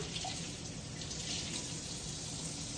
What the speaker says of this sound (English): I'm gonna get my hot water on